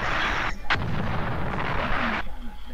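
A loud bomb blast bursts close by after a countdown, a sustained roaring explosion with crackling debris lasting a couple of seconds before cutting off.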